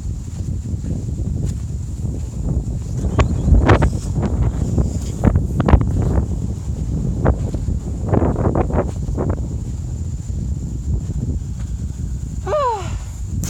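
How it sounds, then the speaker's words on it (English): Gusty wind blows across an open pond lined with oak trees, rumbling steadily into the microphone with rustling and a few brief bumps, and a faint bird call near the end. "Now it's getting pretty windy out."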